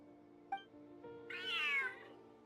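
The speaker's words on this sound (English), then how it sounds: "Oh, Kitty got angry" An angry cat meows from Genshin Impact, a short tick followed by a single loud, drawn-out, rising-and-falling whine over a quiet game music bed.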